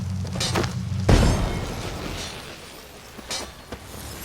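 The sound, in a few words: bombs thrown and exploding in video game The Witcher 3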